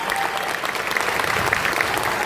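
Audience applause at a comic convention interview in Budapest, a steady, dense clapping from a crowd that holds evenly throughout.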